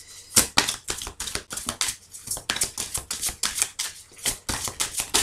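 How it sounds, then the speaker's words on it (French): Tarot cards laid out in quick succession, a dense run of crisp slaps and flicks in an uneven rhythm, close and fairly loud, with no talking. "on va mettre quelques cartes ici"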